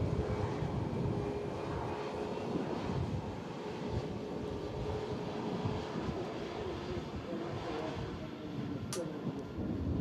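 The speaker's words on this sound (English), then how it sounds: "Airbus A380 rolling on 23 right" An Airbus A380 rolls on runway 23 right at Manchester Airport on a windy, stormy day, a broad, continuous engine rumble at a distance under gusting wind, with faint voices talking throughout.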